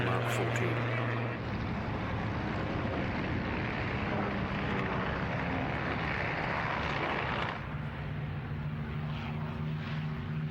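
A Supermarine Spitfire Mark 14 flies at an airshow, its propeller engine a steady broad drone under wind noise throughout, with a commentator's voice running over it.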